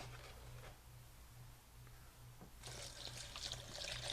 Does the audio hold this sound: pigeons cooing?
no